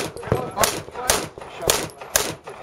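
Five loud, sharp gunshots at steel popper targets on a shooting stage, fired in an even rhythm about half a second apart, close with no talking between them.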